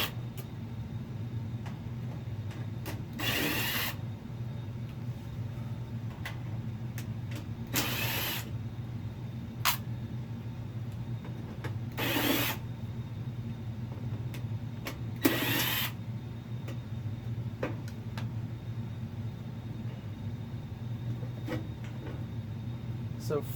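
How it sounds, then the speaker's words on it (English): An impact gun driving out screws from a washer's control panel, heard as four short, loud rattling bursts spaced several seconds apart over a constant low hum. "that's why I am choosing to use an impact gun"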